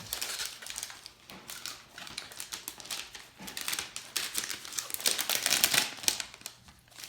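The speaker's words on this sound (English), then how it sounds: "Ours is black and wrapped in plastic. How can we unwrap it?" Plastic wrapping crinkles and crackles steadily as it is pulled off a black Amazon Echo Show 8 smart display. The sound is close and busy, with no speech.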